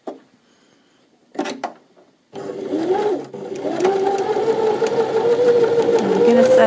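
A sewing machine stitching ribbon onto a knit jersey shoulder seam: a few clicks and short bursts, then a steady close mechanical whir that runs on continuously, with brief talk near the start.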